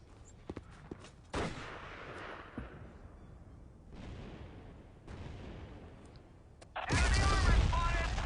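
Battlefield 1942 combat on the Bulge map: scattered gunshots and heavy explosion booms, distant and near, with a loud blast near the end, under intermittent talk.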